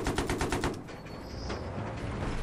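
Rapid gunfire from an armored amphibious vehicle in Battlefield 3, about eight quick evenly spaced shots in a burst, then a rumbling mechanical wash with a faint high whine.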